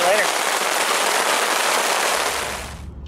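Steady rain falls while car camping in Deer River State Forest, a dense, even hiss of drops pattering on surfaces nearby, continuous and loud before easing slightly and cutting off at the end.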